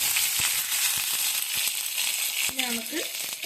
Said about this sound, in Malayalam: നന്നായിട്ട് ചൂടായപ്പോൾ നമ്മൾ കുറച്ച് കടുകും കറിവേപ്പിലയും കൂടി ഇട്ട്